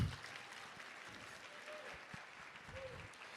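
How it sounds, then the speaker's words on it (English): Applause for the Pathway award winners at a school awards night, a steady clatter of clapping from a crowd filling the room, moderately loud and continuous throughout. "please give another round of applause for all of tonight's Pathway winners"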